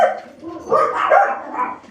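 Dogs bark several times in quick succession at a car passing on the street, close and loud, mixed with whiny, yelping tones.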